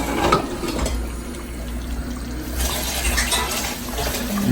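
Okra is washed under running water, giving a steady close stream of splashing and trickling water throughout, with a brief louder splash near the start.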